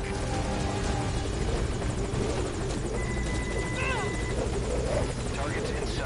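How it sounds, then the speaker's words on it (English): A military helicopter hovers at a landing zone in a stealth action video game, its rotor giving a loud, continuous chopping roar throughout while radio-style voices talk over it. "Put the target on the chopper."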